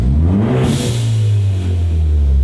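Ford Focus ST engine revved up close, a loud rising rumble that swells and then settles back toward idle, with no talking over it.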